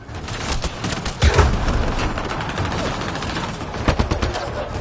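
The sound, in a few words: gunfire in the video game Mass Effect Andromeda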